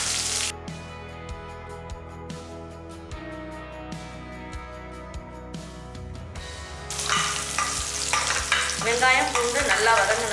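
Onion and garlic fry in a pan as they are stirred. The sizzling is soft at first and swells into a loud, crackling hiss over the final few seconds.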